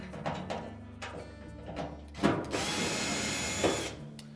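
Power drill backing out Phillips screws from the top panel of an LG dryer: several short whirring bursts, then one long sustained run, close and fairly loud, with no voices.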